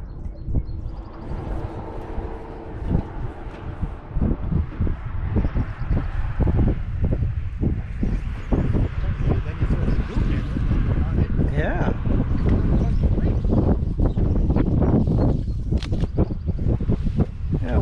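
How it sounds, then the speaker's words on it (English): Gusty wind buffets the microphone beside a stillwater fly-fishing spot, a loud, rough low rumble in uneven bursts that swells through the scene while people talk over it. "We got wind again."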